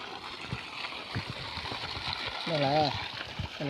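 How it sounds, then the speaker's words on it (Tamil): Water runs from a solar-powered pump outdoors in hot sun, a soft continuous gurgling flow beneath close conversational speech, with a voice rising in a sung or drawn-out tone near the end. "இது வந்து சோலாரில் ஊற்றுற தண்ணி"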